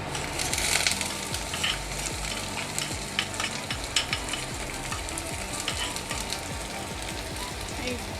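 Onion, ginger and garlic fry in a pan for egg tarka dal. A constant crackling sizzle runs under repeated rhythmic stirring scrapes, close and fairly loud.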